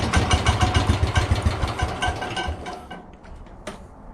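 Engine idling after a choke start on the 106 or 107 coming out of winter storage, a steady nearby chugging pulse that fades and quiets over the final seconds.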